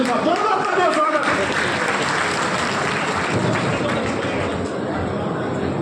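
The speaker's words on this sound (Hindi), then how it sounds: "माननीय शमसुद्दीन लाइन साहब, जोरदार तालियों से स्वागत।" A crowd at a political rally applauds to welcome a speaker: loud, dense clapping with some cheering and crowd noise that gradually thins out toward the end.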